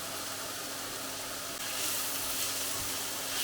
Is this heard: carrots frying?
yes